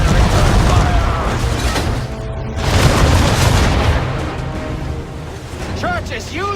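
Ship cannon fire in Assassin's Creed 3 during a naval battle: continuous heavy booming and rumbling cannon blasts over roaring sea and wind, with shouted voices and bright whistling tones near the end.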